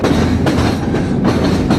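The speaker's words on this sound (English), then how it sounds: "This train is pulling off the mains." Freight train on a Norfolk Southern line in Ohio, heard up close as steady loud rumbling with a rhythmic clickety-clack of wheels over rail joints roughly every half second, no talking.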